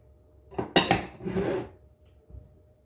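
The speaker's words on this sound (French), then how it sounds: "Donc on mélange bien pour qu'on ait une garniture pas pareille, hein, homogène dans notre cake" Whole olives, sausage and grated emmental get stirred into salted cake batter in a bowl, giving a short cluster of clinks and scraping knocks of a utensil against the dish, close and brief, then quiet.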